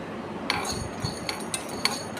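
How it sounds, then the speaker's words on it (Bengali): Whole nutmeg, mace and peppercorns tipped into an empty metal wok, a handful of hard clinks and small rattling taps landing close by in quick succession. "সমস্ত কিছু খালি কড়ায় টেলে নেব।"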